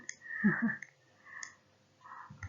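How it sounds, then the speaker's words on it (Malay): Computer mouse clicks, close and crisp, in small clusters: a double click, a single click, then another pair, with quiet gaps and no talk. "Kuat bunyi mouse cikgu kan."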